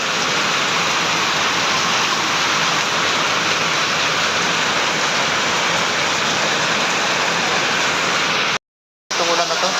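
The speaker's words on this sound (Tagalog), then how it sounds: "Dalawang araw na po itong umuulan." Heavy rain pours down steadily in a continuous dense hiss, close and loud, with no letup except a brief cut near the end.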